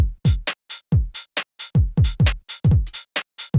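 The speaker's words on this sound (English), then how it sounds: "and then this open hi-hat," A syncopated UK garage drum loop with booming kicks and bright, sizzling open hi-hats ringing between the hits, playing alone and close.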